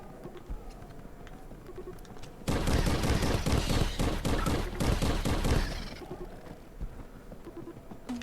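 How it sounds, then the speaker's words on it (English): Rapid, loud shotgun blasts from Crashland VR in nightmare mode burst out in a dense volley lasting about three and a half seconds, set between quieter game ambience, with no speech. "keep firing at him with this"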